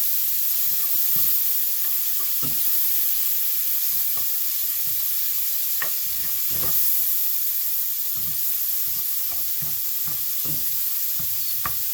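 Shrimp and chopped garlic fry in a pan still holding leftover steak juices, giving a steady loud sizzle and hiss with scattered crackles and pops and occasional stirring scrapes, no voices.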